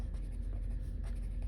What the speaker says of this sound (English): Let's write down our steps